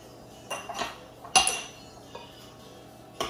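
Sweet potatoes tossed with oregano, chili and garlic powder in a bowl, heard as scattered clinks and scrapes of a utensil against the dish, several sharp knocks separated by quiet pauses.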